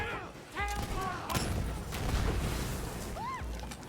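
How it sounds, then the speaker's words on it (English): A video game grenade goes off in a burst of loud, crackling gunfire-like explosions, with background game music and effects running throughout. "Grenade!"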